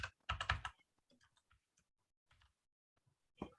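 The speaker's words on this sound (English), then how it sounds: "I'm just going to type CPS 2500 pixel" A computer keyboard being typed on: a quick cluster of clicks, then sparse, soft scattered keystrokes and a final short burst, close and quiet.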